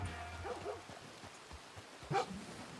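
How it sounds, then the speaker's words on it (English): A dog or wolf in Red Dead Redemption 2 gives a few short barks and yips, one early pair and a sharper bark near the end, over a low background hum. "this normal dog's now a wolf"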